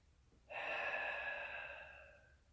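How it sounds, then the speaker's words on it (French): One long exhale during a Pilates breathing exercise, a soft, breathy rush of air that starts abruptly and fades slowly, close and quiet with no talking. "Inspire et souffle."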